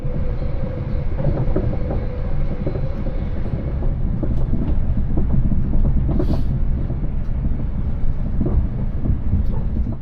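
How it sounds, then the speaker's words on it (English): Intercity train carriage rolling along the track in a steady, loud rumble, with faint irregular pops and knocks from the bogies scattered throughout. "You can even hear the slight popping, which I assume is coming from the bogie construction."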